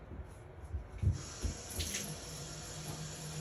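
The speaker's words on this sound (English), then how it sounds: "I'll go ahead and turn the water on so we can see that" Water runs from a bathtub faucet in a quiet bathroom, a faint, steady rush broken by a few soft thumps and splashes early on.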